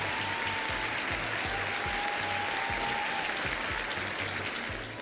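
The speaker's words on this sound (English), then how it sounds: "Big old round of applause for Charlie Farmer." A crowd gives a round of applause, dense and steady clapping at moderate volume over a faint backing tone, fading slightly at the end.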